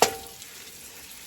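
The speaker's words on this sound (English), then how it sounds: "So the meat is going to go ahead on and fry on up" Beef frying in a pot for a beef and shrimp gumbo stew: a sharp hiss as the meat hits the heat, then a softer, steady sizzle fading under the lid, close by.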